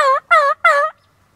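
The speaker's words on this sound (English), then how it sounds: "I just got a bird to gobble." A wild turkey gobbles three times in quick succession, loud and fairly close, each rattling call rich in harmonics, followed by quiet outdoor stillness.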